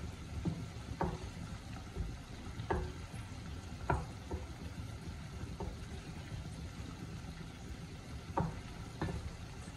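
Prawns frying in a pan while a bottle gourd curry cooks, a faint continuous sizzle with occasional soft clinks and stirring taps spaced a second or two apart.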